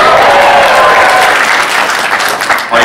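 Loud, dense applause fills a hall at an anime convention cosplay contest, starting at full strength and gradually thinning out toward the end.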